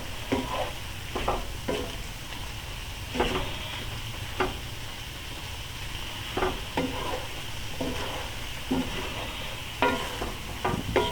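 Chorizo, eggs and beans fry in a pan while being stirred: a steady soft sizzle runs underneath, and repeated scraping strokes of the utensil come at an uneven rhythm, close and fairly quiet.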